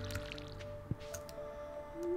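A watering can waters crops in the farming video game Stardew Valley, making a soft, wet splash and squish over steady background game music, with one sharper drip-like plop near the middle.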